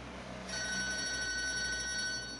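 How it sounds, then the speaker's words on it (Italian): A BlackBerry Storm smartphone rings with an incoming call, a steady electronic ringtone that starts abruptly and holds on, close and clear over faint background hum. "Ecco che arriva una telefonata."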